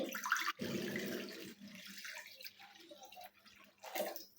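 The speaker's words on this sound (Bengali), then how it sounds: "চুলায় একটা কড়াই বসিয়ে দিয়েছি। এখন দিয়ে দিচ্ছি পর্যাপ্ত পরিমাণ পানি" Water pours into a wok on a stove in a quiet kitchen, a brief splashing gush followed by lighter trickling and a final short pour.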